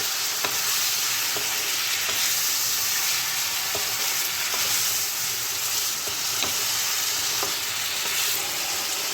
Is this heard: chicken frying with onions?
yes